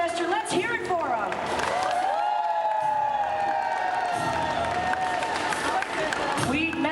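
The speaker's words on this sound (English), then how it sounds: "Round of applause" A rowdy convention audience in Manchester, with cosplayers present, breaks into loud applause and cheering, with whoops and shouts rising over steady clapping throughout while an amplified voice speaks over it.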